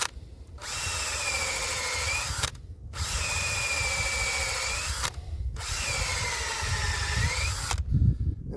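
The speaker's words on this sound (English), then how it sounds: "I come here, drill slightly uphill." A power drill whines steadily into a maple tree trunk, tapping it for sap, in three long bursts, each a couple of seconds, separated by brief pauses, close and loud.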